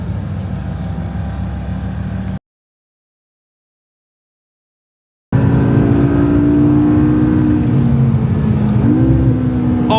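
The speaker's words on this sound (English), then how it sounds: "On board with Steve, AOD Supercars, aka all on deck in the McLaren." A McLaren supercar engine roars loudly on the Silverstone track during a BRDC track day, drops out for about three seconds, then returns at full volume with the pitch rising as it pulls away.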